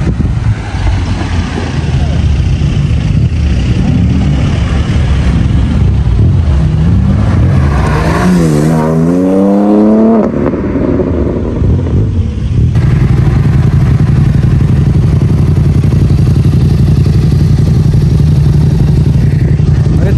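Car on a road test, engine roaring loudly under acceleration with a rising whine, gear shifts producing sharp exhaust cracks, heard from inside the cabin amid a voice.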